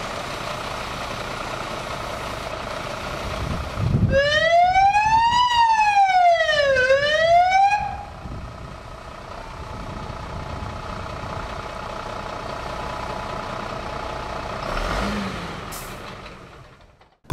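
A volunteer fire brigade rescue and firefighting truck from Zagorzyce Górne sounds a loud wailing siren for a few seconds over its idling engine. The rumble continues after the siren cuts off.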